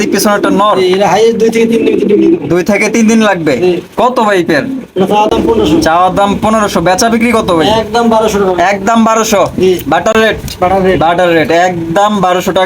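Racing pigeons for sale at a pigeon market coo softly in the background while someone talks almost nonstop over them.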